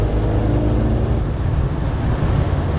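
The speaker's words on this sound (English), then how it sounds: "A little bit of wind noise, not terrible though, but definitely not droney from the exhaust." A 1947 Ford Deluxe Coupe hot rod cruising at 60 mph, a steady dense rumble of road and wind noise from inside the car with a low engine drone underneath, continuous and fairly loud.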